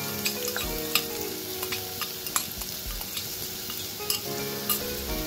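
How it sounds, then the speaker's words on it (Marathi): Chopped onions frying in 2-3 spoons of hot oil in a kadai for Goan-style chicken kheema, a steady close sizzle with a spoon scraping and stirring at intervals. "कांदो जरा परतून घ्यायचो."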